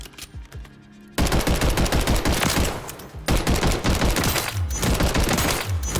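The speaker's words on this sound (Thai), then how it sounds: "แมกกาซีน30นะฮะ ยิงไป ถือว่า คอนโทรล ง่าย อยู่" Rapid bursts of automatic gunfire from a 30-round-magazine rifle in the video game Warzone, loud, dense rattling volleys with short pauses between them, no talking.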